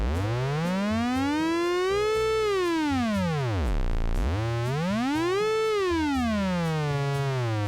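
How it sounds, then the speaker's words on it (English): A tone from the Runner synthesizer, loud and continuous, its pitch sweeping up and down in smooth arcs and dipping very low in the middle, with no voices. "the only thing that will be coming out of the Runner is a steady pitch"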